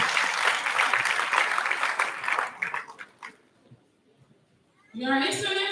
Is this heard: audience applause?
yes